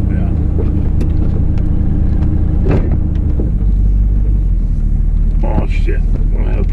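A car engine idles low and steady, a constant deep rumble that dips slightly partway through, with people talking and a few knocks and clatters nearby.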